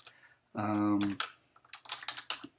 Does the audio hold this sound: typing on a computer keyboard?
yes